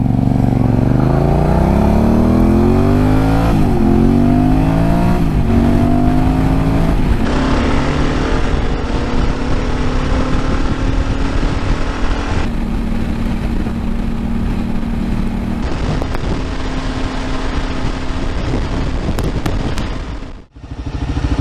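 Yamaha T7 and Kawasaki KLR 650 motorcycles cruising on a highway, a loud, close, steady engine drone with rising pitch sweeps as the bikes accelerate through gears, broken by wind rush, then a brief dropout near the end.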